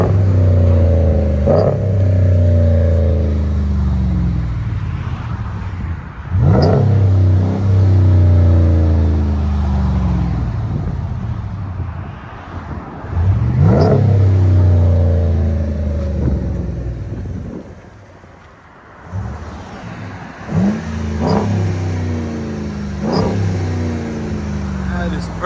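RAM 1500 pickup with a 5.7L HEMI V8 and Vibrant exhaust, revved repeatedly near a construction site, each loud deep surge rising and falling over a constant idle rumble.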